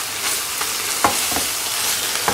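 Minced beef tartare sizzles steadily in a hot pan over high heat while a utensil stirs it, with a few soft scraping strokes and no talking.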